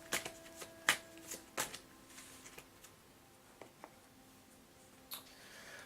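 Tarot cards are shuffled and drawn in a quiet room, giving a scatter of crisp riffles and sharp snapping flicks spaced irregularly, close and fairly soft.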